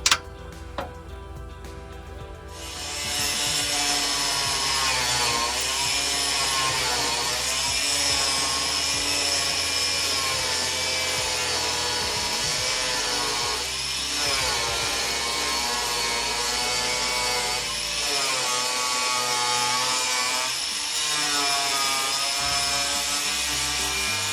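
A power tool cuts steadily through seized screws on a trailer light, starting after a short pause and then grinding continuously at close range for about twenty seconds, its pitch wavering slightly as the load changes, with no talking.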